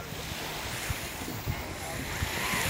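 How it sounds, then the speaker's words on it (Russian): Continuous broadband wash of sea surf rolling onto a hotel beach at Sol Nessebar Palace, steady and fairly loud with gusty wind noise and a few soft thumps. "Вот он, шикарный пляж, на который сюда можно приезжать."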